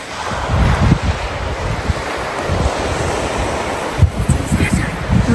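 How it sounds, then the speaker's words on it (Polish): Surf breaking on a cold winter beach near a golf resort, waves washing in continuously under strong wind buffeting, with a louder wave surge near the end. "Jesteśmy na plaży."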